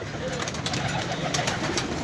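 Pigeons land to feed on scattered grain, cooing softly amid a steady broadband rustle and flutter, fairly close and continuous, with faint voices in the background.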